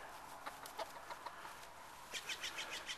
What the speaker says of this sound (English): We have our lone chicken downstairs.